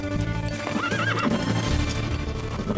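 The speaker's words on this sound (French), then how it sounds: "Va détacher les chevaux." Horses whinny with a rising, wavering neigh while hooves clip-clop steadily underneath, in a dramatized scene set in the countryside of ancient times, loud and close throughout.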